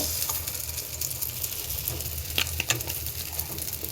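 Idli batter frying in hot oil in a pan gives a steady close sizzle and crackle, with a few brighter spits and pops partway through.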